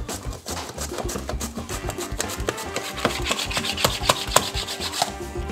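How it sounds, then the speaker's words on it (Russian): A pineapple is cut on a Borner Classic manual vegetable slicer, giving a dense run of scraping, rubbing and rapid chopping strokes against the blade and plastic frame, close and continuous. "Смотрим, как быстро можно нарезать ананас."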